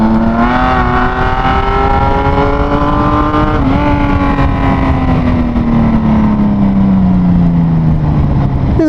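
A Kawasaki Z1300 motorcycle engine runs loud and close, its smooth, steady drone rising in pitch with a rev, then sliding slowly back down.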